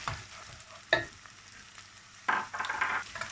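Chopped green chilies tipped into onions frying in a pan for reshmi chicken: two bursts of sizzling and stirring scrapes, the second louder and longer, over a quiet background.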